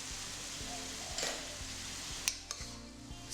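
Bean sprouts being stir-fried with soy sauce, sugar and sesame oil in a pan give a steady close sizzle, with regular scraping strokes of a spatula and a few light metallic clinks.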